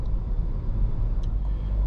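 A 2024 Cadillac XT4 on the road gives a steady low rumble of engine and tyre noise that holds evenly throughout, with no voices.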